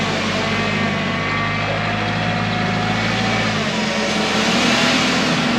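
A UPS delivery truck stuck in quicksand revs its engine hard and continuously, a loud steady roar that shifts lower partway through as the wheels spin.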